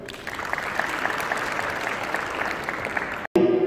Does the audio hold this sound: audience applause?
yes